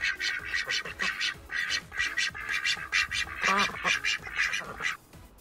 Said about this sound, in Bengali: হংস ভাসে নদীর জলে